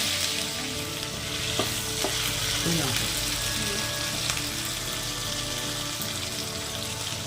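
Ginger garlic paste frying in a pan crackles and sizzles steadily up close, with stirring scrapes and a brief watery splash.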